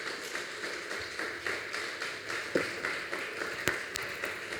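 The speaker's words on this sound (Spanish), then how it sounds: "denle un aplauso fuerte a nuestro Dios" Church congregation applauding during a Spanish-language service, a soft, fairly distant patter of many hands clapping steadily with a few sharper knocks, no talk over it.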